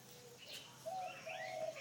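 A loose hwamei songbird near its cage gives short chirps and brief whistled notes, fairly faint, over a quiet outdoor background with no speech.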